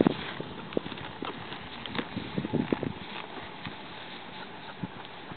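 Faint, irregular horse hoof clops on the ground at a distance, with light outdoor background noise and no one speaking.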